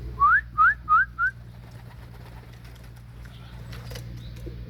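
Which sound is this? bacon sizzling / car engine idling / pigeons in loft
pigeons in loft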